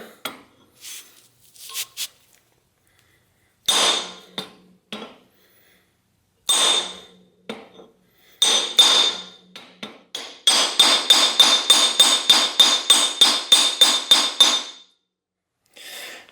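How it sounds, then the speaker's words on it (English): Hammer blows knock at a stuck cotter pin in the bottom bracket of a vintage Peugeot bicycle: scattered single metallic strikes and short pairs at first, then a fast steady run of about a dozen ringing taps, loud and close with no talk. "Now I'll try knocking this pin back out again."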